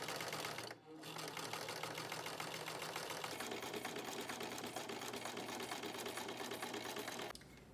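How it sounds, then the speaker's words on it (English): A sewing machine zigzag-stitches across craft foam, its steady fast mechanical whir running continuously close up after a brief pause near the start. "we're going to put it into the machine and zigzag over it"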